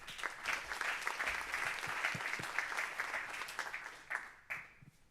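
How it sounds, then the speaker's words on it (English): A conference audience gives steady, warm applause, many hands clapping together at a moderate distance for several seconds before it tapers off, with faint murmurs underneath. "once more, a warm applause for Jens"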